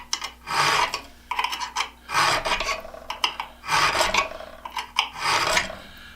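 A fine file rasps along the edge of an Irwin or Jennings style auger bit in a series of short, close strokes, about six distinct scraping passes separated by brief pauses.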